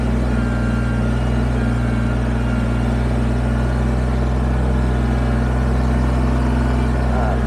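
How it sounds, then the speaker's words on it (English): A Kubota BX23S compact tractor loader engine runs steadily at close range while moving logs, a loud continuous droning hum without pause throughout. "trying to work and listen to the tractor"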